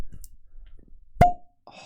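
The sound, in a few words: cork popping from an Old Forester bourbon bottle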